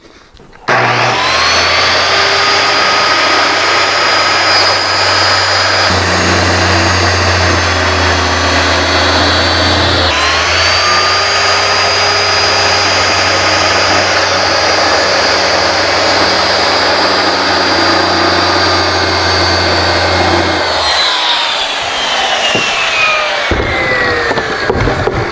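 A power saw slices through Kerdi board for a shower curb, a loud continuous whining roar that briefly changes tone midway and winds down near the end, with no talk over it.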